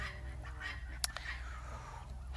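Farm ducks on a pond give faint, honking calls over a steady outdoor background, with one brief sharp call standing out near the middle.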